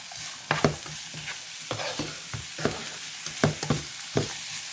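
Vegetables fry in a pan as salt is stirred in, with a steady sizzle and repeated scraping strokes of a spoon, several distinct stirs in a loose rhythm, close and without talk.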